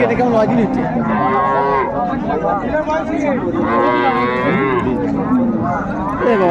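Cattle moo repeatedly in long, loud bellows, one after another, at the Raniganj cattle market in Dinajpur, with a crowd murmuring and voices chattering underneath throughout.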